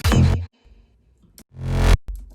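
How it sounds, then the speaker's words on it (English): Two deep, swelling bass sounds that build in loudness and then cut off sharply, like notes played backwards, separated by a brief near-silent gap. "you often get these kind of reversed bass noises that lead into different bass sounds"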